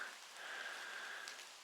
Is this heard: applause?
no